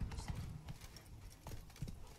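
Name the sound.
horse galloping in a horse race, Witcher 3 video game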